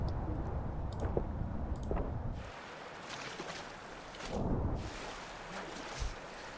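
Water rushes and churns in the video game Enshrouded, a steady wash that swells and fades, with wind-like noise and no clear talk.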